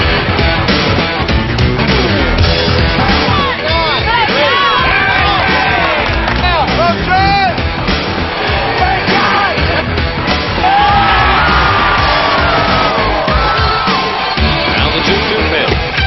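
A packed baseball stadium crowd at the 1992 World Series cheers, yells and whoops continuously, loud and dense throughout, with a voice talking over the roar.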